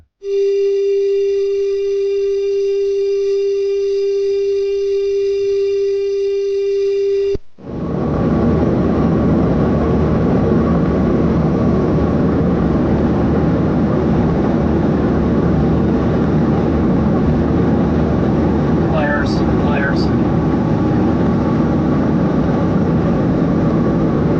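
A military aircraft in intercept footage: a steady tone gives way to a loud, continuous low engine roar and rushing noise inside the plane, with a couple of brief higher chirps near the end.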